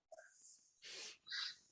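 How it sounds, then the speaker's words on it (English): A dog indoors gives a few faint, short snorting and whimpering bursts in quick succession, with quiet gaps between them. "Sounds like a beagle."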